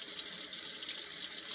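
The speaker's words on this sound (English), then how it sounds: "now you simply clean it out under some cold water" Cold tap water runs steadily into a sink, rinsing coffee grounds out of an unscrewed MyCoffeeStar stainless steel espresso capsule; a continuous close hiss and splash with no talking.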